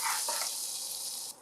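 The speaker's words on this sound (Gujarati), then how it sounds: "હવે આ ગરમ વઘાર આપણે સોડાની ઉપર એડ કરવાનો" Hot spiced oil tempering for Gujarati handvo poured over baking soda, giving a brief loud hiss and fizz that fades after a little over a second.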